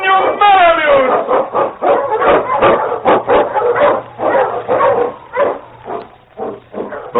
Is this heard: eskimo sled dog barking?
yes